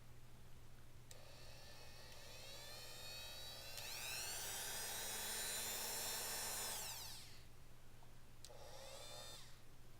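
A small cordless drill bought from AliExpress whines at high pitch in several bursts, spinning up and down with a steady motor tone over a constant low hum, near and fairly loud with no talk.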